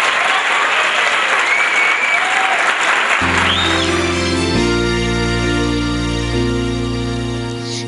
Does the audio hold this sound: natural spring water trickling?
no